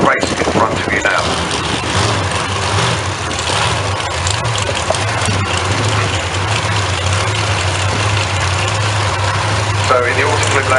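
Drag racing engines, an Outlaw Anglia and a dragster, idle with a steady low rumble at Santa Pod Raceway, under an announcer's voice over the track loudspeakers.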